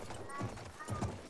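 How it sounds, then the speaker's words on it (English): Horse hooves clip-clopping in the video game Battlefield 1, a few soft rhythmic thuds at a steady gait mixed into a busy, faint game soundscape. "Okay, I'm spawning in on a horse too."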